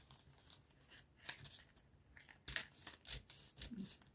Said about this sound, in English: Trim it down